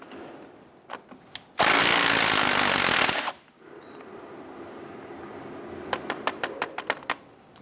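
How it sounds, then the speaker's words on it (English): A 19mm socket loosens a nut on a 1999-2004 Jeep Grand Cherokee's lower ball joint, with a loud sustained power-tool burst of about a second and a half, followed by scattered metallic clicks and taps. "Using a 19mm socket, go ahead and loosen and remove this nut."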